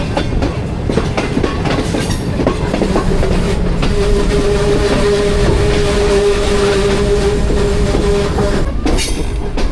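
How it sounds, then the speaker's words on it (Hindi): The Pak Business Express passenger train approaches Khanewal Junction with loud, continuous clickety-clack and rumble heard from on board. A sustained wheel squeal runs through the middle stretch. "12:30 हो रहे हैं जी दिन के, खानेवाल जंक्शन पे अप्रोच बना रही है ट्रेन।"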